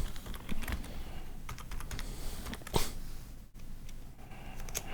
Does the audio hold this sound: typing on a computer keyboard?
yes